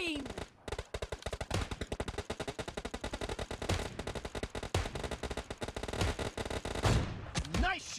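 Kar98 bolt-action rifle gunshots in PUBG team deathmatch, many loud sharp cracks fired in rapid succession amid other players' gunfire, with game sounds mixed in throughout.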